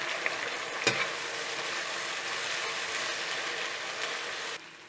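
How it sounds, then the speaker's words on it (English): Chicken sizzles steadily in a wok with cooking wine and spring onion, a loud, even frying hiss with a sharp clatter near the start, running alone until it cuts off just before the end. "Fry for a minute."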